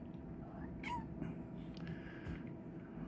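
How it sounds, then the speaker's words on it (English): A cat meows briefly and faintly a couple of times over a steady low background hum indoors, with no talking. "I've got cat shenanigans going on"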